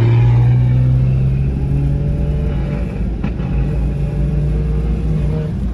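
Nissan S13 drift car with a 1JZ engine at a circuit, its loud steady engine drone and low rumble holding close throughout with slight variations in revs, no clear talk over it.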